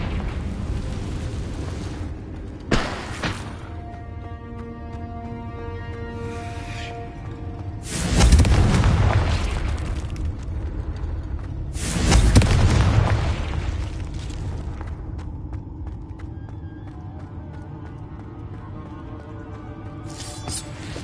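A Confringo blasting spell in the Hogwarts Legacy video game goes off as a loud explosion with a booming burst, and a second blast follows a few seconds later, both over a steady game soundtrack.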